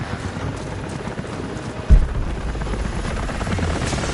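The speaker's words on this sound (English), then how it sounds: "Jacob, helicopters are headed your way." Helicopters approach in the video game Rise of the Tomb Raider, a steady low rotor thrum that grows fuller partway through with a heavy thump, continuous and rumbling under the game's ambience.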